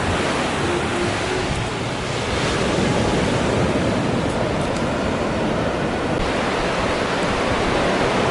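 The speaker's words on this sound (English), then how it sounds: "look at these waves, man" Pacific Ocean waves breaking on a beach, a loud, continuous wash of surf with steady rushing roar and some wind buffeting on the microphone, no talk.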